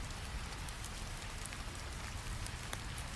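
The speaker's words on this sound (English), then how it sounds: "Water runs down ceramic roof tiles steadily." Steady rain runs down ceramic roof tiles, a soft continuous wash with faint scattered drip ticks and no voices.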